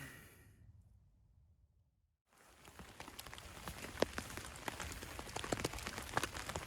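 Steady rain patters on a hammock camp tarp at night, after a brief silent gap, with scattered heavier drops tapping close by over the constant hiss.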